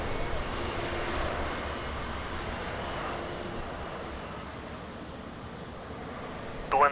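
An Air France airliner landing at Lisbon Airport in wind and rain gives a broad, steady jet roar that slowly fades, with a brief radio voice cutting in at the end.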